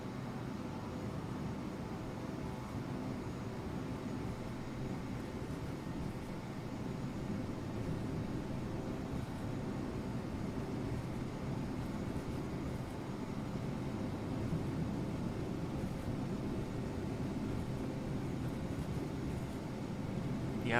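Twin turboprop engines of a King Air B200 at ground idle in Microsoft Flight Simulator 2024, a steady, even drone with a low rumbling hum that holds unchanged throughout, no voices over it.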